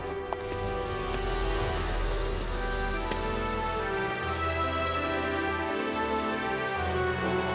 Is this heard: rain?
yes